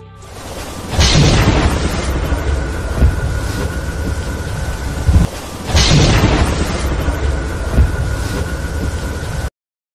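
A U.S. Army Convair recoilless gun firing in a 3D animation: two loud booming blasts a few seconds apart, each followed by a long rolling roar and rumble that lingers before cutting off, no talking.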